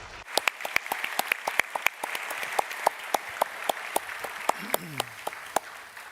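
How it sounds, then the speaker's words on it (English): A crowd of university students claps steadily at a first-semester welcome at Uni Bonn, with sharp individual claps standing out over a dense patter, and a brief voice murmuring underneath. "So a big round of applause to you."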